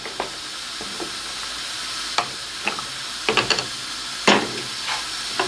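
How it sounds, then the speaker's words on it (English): Frozen vegetables sizzle in a pan, a steady close hiss of frying broken by several scraping, clacking stirs of a utensil against the pan, with no talking. "I'm just going to give these a little stir."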